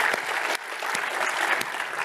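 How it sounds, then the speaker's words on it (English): Audience applause at a live hover racer training stream event, a steady dense wash of clapping with a brief dip partway through, moderately loud and with no talking over it. "Let's give them a round of applause."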